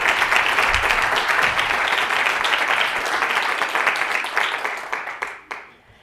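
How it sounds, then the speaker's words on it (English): An audience at a college 40th anniversary celebration claps in sustained applause that fades away toward the end, with a few sharp individual claps audible near the close. "So a big round of applause to all of you for the work that you did today."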